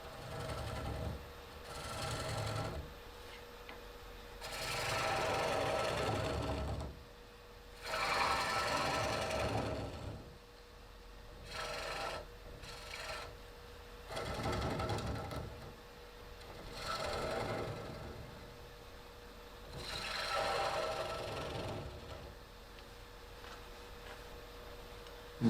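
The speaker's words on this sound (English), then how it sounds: "I use a parting tool to start making the recess. and a gouge to clean out the middle of it." A wood lathe turns a bowl blank while a gouge cleans out the recessed middle, giving a steady whirring hum broken by repeated loud rasping bursts of cutting, each lasting a second or two.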